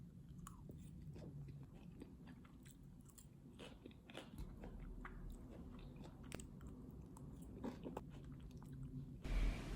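Someone eating sweet green grapes, close, faint crunchy bites and wet chewing repeating irregularly in a quiet room.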